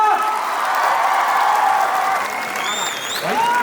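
An audience at a talk show-style event breaks into loud, sustained applause mixed with cheering and whistles, holding dense and steady throughout.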